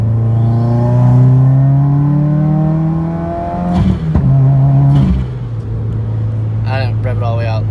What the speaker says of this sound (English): I didn't rev it all the way out because I'm not trying to go fast